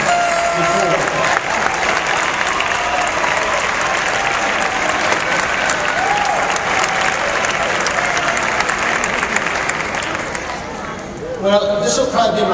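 An audience at a University of Arizona graduation ceremony bursts into sustained applause, a dense wash of clapping that holds loudly for several seconds before thinning briefly and swelling again.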